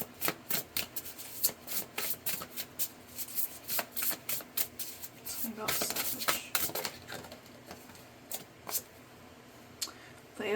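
Tarot cards are shuffled close up in quick repeated riffles and slides, a pause of rubbing, then more rapid bursts of shuffling.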